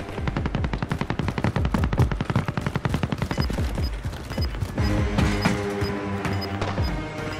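Rapid bursts of automatic gunfire from Call of Duty Warzone on Rebirth Island, loud and close, run through a dense rhythmic fusillade before dropping back to mixed game sounds.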